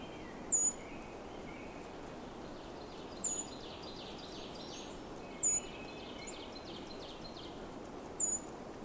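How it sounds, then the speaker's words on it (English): Short high-pitched phrases of a Swainson's thrush repeat about every two to three seconds, faint and distant, over a steady hiss of background ambience on a hike. No talking. "Hearing some Swainson's thrush too."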